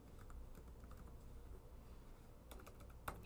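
Quiet computer keyboard typing during a live crypto and stock charting session, soft scattered keystrokes over low room noise, ending in a short burst of a few sharper clicks.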